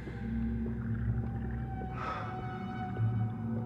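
Whale song from the underwater game Under The Waves: a long rising, swooping moan that swells near the middle, over a steady low ocean rumble and faint hum.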